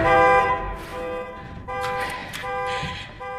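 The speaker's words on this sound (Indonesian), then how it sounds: "ia dengan cepat membunyikan alarm dari kunci mobil yang dibawanya" A car alarm triggered from a key fob remote blares in repeated tonal bursts, loud and close, with short gaps between the sounds.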